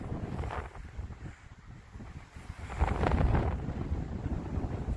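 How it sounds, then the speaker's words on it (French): Gusty wind buffets the microphone in a continuous low rumble, swelling stronger toward the middle and easing off slightly near the end. "Le vent vient du sud."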